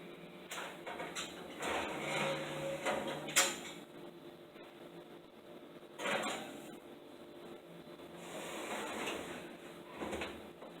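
An oven door, preheated to 195 degrees Celsius, is opened and closed to put in banana bread, giving a few quiet clunks and light metallic rattles spread over a soft kitchen background.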